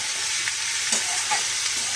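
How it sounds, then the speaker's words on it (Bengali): Dal cooking in a pan, a loud, steady sizzle with soft scraping as it is stirred, close up with no talking. "দেখো আমি ডাল একটা করছি।"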